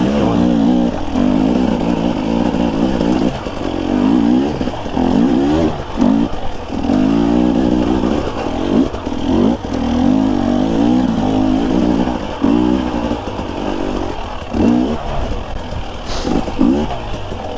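Dirt bike engine while riding a dualsport trail, a steady droning motor with repeated rises and dips as the throttle opens and closes, heard close up with wind noise throughout.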